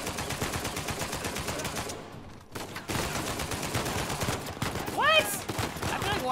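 Rapid AK and shotgun gunfire in an Uncharted 4 firefight, with dense bursts of close shots, a brief lull, then more shooting, with a short whistling effect near the end.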